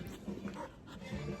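A pet dog makes soft whimpering, panting sounds close by, with a low murmur in the background across a short stretch.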